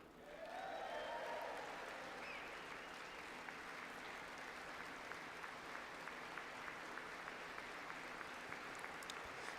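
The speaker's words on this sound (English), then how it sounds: "See, everybody stands, claps, sits." An audience at the State of the Union breaks into applause that swells to a loud, dense roar of clapping, then holds as a steady wash of hands with scattered sharper claps.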